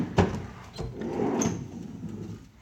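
A garage drawer of sandpaper and grinding discs slides open with a rolling rumble, preceded by a couple of knocks and ending with a sharp clunk, close by.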